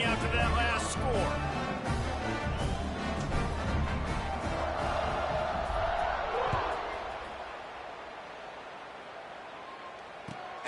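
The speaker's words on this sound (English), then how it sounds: "this crowd is buzzing after that last score" A college football stadium crowd at a Fresno State vs Tulsa game buzzes with a loud, dense roar after a score, then gradually fades to a quieter hum.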